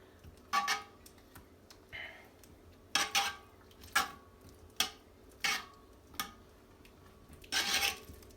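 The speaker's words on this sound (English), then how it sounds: "I'm just going to take a spoon and just kind of mix it all in here." A metal spoon scrapes and knocks inside a cast-iron Dutch oven while food is mixed, giving irregular clinks and scraping strokes spaced about a second apart, close and fairly quiet with no talk.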